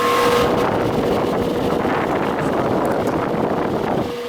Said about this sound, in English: Alright, compressor's running.